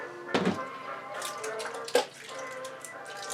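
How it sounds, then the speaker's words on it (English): Water draining out of wet wood pulp, a soft continuous trickle and splash with a couple of louder sloshes, close and fairly quiet. "the water will be draining out immediately like it is now"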